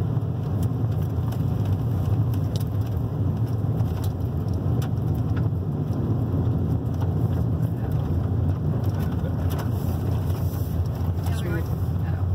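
A vehicle drives a gravel road near Chalk Bluff, making a constant loud rumble with wind buffeting and scattered crunches, and a voice is faintly present at times.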